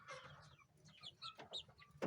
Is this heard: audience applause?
no